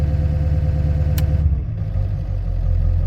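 Deep, rumbling 1997 Ford F-250 HD 7.3 diesel pickup engine with a 5-inch exhaust idling nearby, a steady low throb that briefly dips and then settles back into its even chug.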